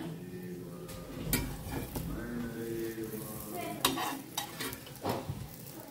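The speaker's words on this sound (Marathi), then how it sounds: "ताका न्ही गोल्डन कलर जाय आसा न्ही फ्राय करून घेवंक जाय" Food sizzles while frying in a pan and is stirred and turned with a utensil. Steady hissing runs under the scrapes and clatters of utensil against pan, with a few sharper knocks toward the end.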